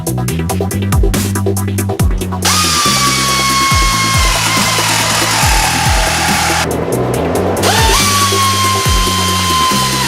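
Power tool cutting out a piece of sheet metal for a Volvo pickup truck build: a loud, steady motor whine with rapid bursts of harsh cutting at the start and again later, a grinding hum between bursts, and no talking.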